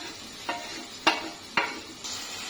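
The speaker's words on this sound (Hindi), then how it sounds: "कीमे को मैं अच्छे से भून लूंगी" Minced meat (keema) fries in a pan under a low sizzle, with three sharp spoon scrapes and clinks against the pan spaced roughly half a second apart, close by.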